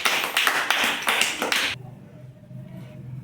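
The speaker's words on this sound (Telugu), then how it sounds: "క్లాప్స్. బాగా పెట్టింది." A children's class claps together in a short burst of several quick, rhythmic claps close by, then falls quiet to a faint room hush.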